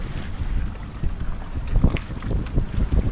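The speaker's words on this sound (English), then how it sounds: "Look at this engine though." A motor on an upgraded solar-panel boat off an island near Phuket, Thailand, chugs unevenly. Rough wind buffets the microphone and water noise washes over it, and no one speaks.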